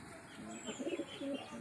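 Racing pigeon cooing close by, a short soft series of throaty coos, quiet and alone.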